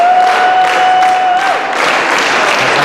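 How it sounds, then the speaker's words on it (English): Pro wrestling event crowd clapping and applauding steadily throughout, a dense wash of handclaps with a long sustained whistle or tone early on, no talk. "Oh, he's clapping hands."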